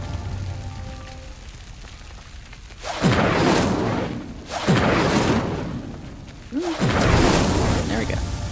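Incendio fire spell from Hogwarts Legacy igniting a pyre: three loud whooshing bursts of flame with rumbling roars, each swelling then fading, over quiet game ambience.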